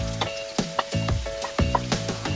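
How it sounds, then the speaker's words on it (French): Sliced peppers and chorizo fry in a pan for an omelette, with a close, crackling sizzle and repeated quick scrapes and clacks of a utensil stirring them. "les poivrons vont être bientôt prêts. On va rajouter le chorizo."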